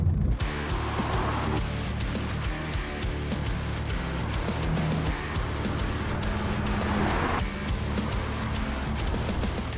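A 2011 BMW 1M Coupe drives along with its engine and road noise filling the cabin, a steady, continuous drone with slight swells and no talk.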